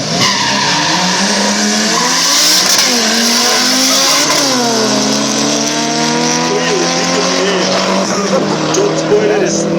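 An Audi race car at an airfield drag racing event roars and revs loudly with tires screeching over a continuous engine drone, while a commentator talks over it.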